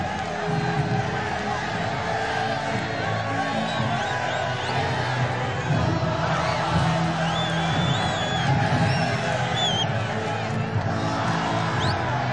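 A stadium crowd cheers and murmurs at the Santiago Bernabeu during Ferland Mendy's Real Madrid presentation, a steady, roomy roar with scattered whoops and whistles rising and falling over the whole stretch.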